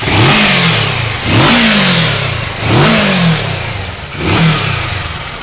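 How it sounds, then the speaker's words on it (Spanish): A modern Kawasaki Versys motorcycle engine is blipped four times in succession, each rev rising sharply and sliding back down to idle, recorded up close and loud with no voices. "El motor se ve que suena muy bien,"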